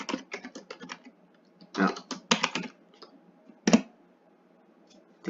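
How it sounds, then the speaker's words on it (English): Keyboard typing while naming an Azure site-to-site VPN connection: bursts of close, quick key clicks with short pauses between runs, and a brief voice heard once. "I could type."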